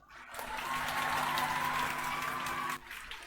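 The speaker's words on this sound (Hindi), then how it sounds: "अपने लिए जोर से ताली बजाओ जरा।" An audience at a talk bursts into loud, sustained applause from many hands that swells quickly, holds for a couple of seconds, then stops abruptly.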